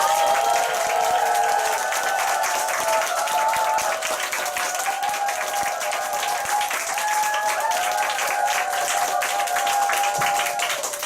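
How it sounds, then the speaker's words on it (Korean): Sustained audience applause fills an indoor company group meeting as a speaker, a company president, walks on stage, dense steady clapping with faint cheering tones throughout and no talk over it. "나오실 때 큰 박수 부탁드리겠습니다"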